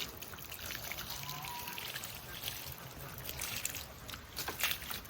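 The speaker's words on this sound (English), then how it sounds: "Right, so I'll just wash it off again." Water poured over a large tree stump to rinse soil away while it is prepared as a bonsai, giving a steady splashing trickle that runs continuously outdoors at moderate level with no talk.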